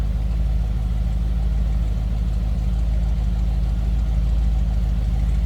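A 1964 Chevrolet Impala SS engine idles steadily with a deep, even low rumble, close and constant with no revving.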